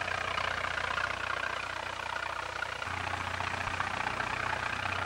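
A Farmall F-12 tractor engine runs steadily at a governed speed, a continuous low mechanical hum with an even, unchanging drone, moderately distant.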